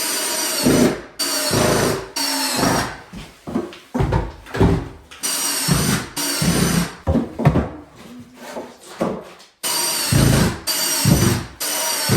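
A power drill drives screws into small wood pieces during a kitchen renovation in an old house, loud repeated bursts of whirring with short pauses between, close up and with no talking.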